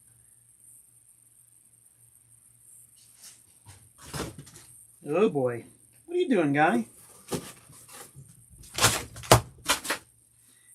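Indoors, a house cat bats an object around, making scattered light taps and sharper knocks, mostly toward the end. Someone speaks briefly in the middle.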